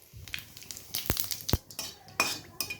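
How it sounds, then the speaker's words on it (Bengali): A utensil scrapes and clinks against a pan as dried chili and cumin are stirred in hot oil, giving a few sharp metallic knocks and light rattles with quiet gaps between them, close by and with no talking. "একটু নেড়ে চেড়ে দিলাম।"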